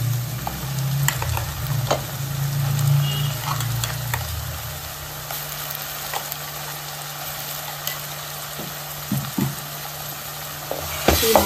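Masala fries in hot oil with a continuous close sizzle, punctuated by scraping and clinking stirring sounds from a spoon in the pan.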